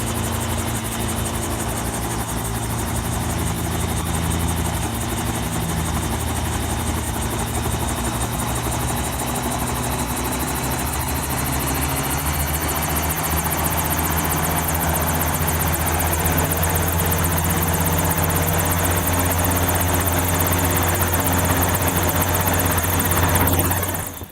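Helicopter running steadily on a moving deck, its rotor and engine drone loud and close with a constant whine throughout, no voices.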